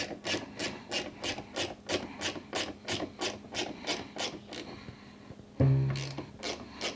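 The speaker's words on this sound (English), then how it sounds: "Then we're going to tighten the cable coupler nut to remove all the slack of this cable." Tightening a cable coupler nut on an Exact Slide G5.5 cable slide with a hand ratchet: a steady run of close, crisp ratchet clicks in quick rhythmic strokes, pausing briefly and resuming after a short knock.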